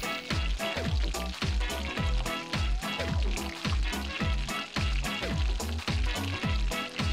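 Pumpkin with carrot sizzles loudly in a pan, a steady frying hiss broken by regular rhythmic knocks of stirring, close and continuous with no voices.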